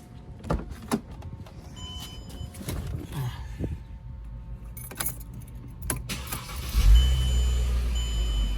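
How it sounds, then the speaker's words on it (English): Keys jangle and clicks sound inside a 2009 Mercedes E350 with the M272 V6 engine. Near the end the engine cranks and catches, then settles into a smooth, steady idle close by. "But let me start the car up for you real quick."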